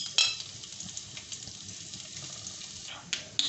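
Chicken with finely chopped green chilli fries in a pan, a steady soft sizzle with a few light stirring scrapes and a sharper clink near the end, no voices.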